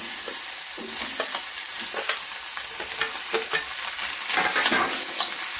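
Boiled potatoes are stirred into a hot-oil tempering of curry leaves and turmeric in a kadhai, giving a steady close sizzle broken by repeated scraping and clinking strokes of the spoon, with no talking.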